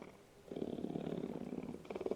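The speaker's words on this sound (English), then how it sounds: "He purred, loudly, like a tiny engine revving up something far bigger than I understood." A small cat purring loudly and close, a steady rhythmic rumble that pauses briefly and then resumes.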